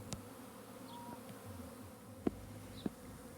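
Honey bees buzz around a hive entrance where new frames of wax foundation are being set in, a faint steady insect drone with two brief sharp knocks late on.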